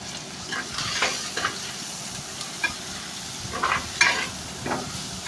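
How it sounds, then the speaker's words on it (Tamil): Onions sizzle gently with turmeric in a pan while a spoon scrapes and stirs at intervals, close by, with no talking. "மஞ்சத்தூள் போட்டு நல்லா வதக்கிக்கங்க"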